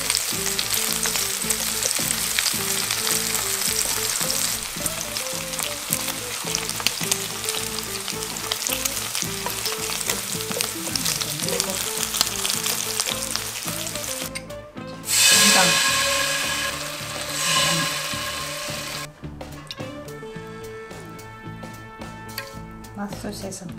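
Pork belly sizzles and spatters steadily in a hot pan for a long stretch, loud and close, with occasional stirring scrapes; a person talks over the frying.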